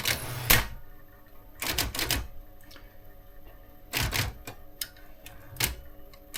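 An Olympia typewriter, part of a Japanese Olympia collection, clatters through bursts of key strikes and carriage or lever actions, loud and close, separated by quieter mechanical ticks and pauses, with no talking.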